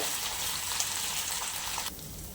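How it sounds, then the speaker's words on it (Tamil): Thoothuvalai leaves fry in ghee with a steady, close hiss and crackle that drops away abruptly near the end. "இதை நல்லா வந்து ஃப்ரை பண்ணிக்கிறீங்க."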